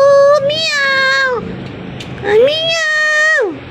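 A cat meows twice, near and clear, each call rising and then falling. The meows are separated by a short pause filled with low background murmur, at a relatives' home in Morong, Rizal, Philippines.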